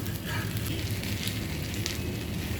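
Rava uttapam fries on a hot pan, a steady close sizzle and crackle of oil that holds at an even level throughout.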